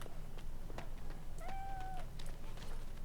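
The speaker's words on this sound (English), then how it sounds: "Kitty?" A cat in the Dragon Age Origins video game gives one short, clear meow mid-clip over a steady bed of low game ambience and soft scattered clicks.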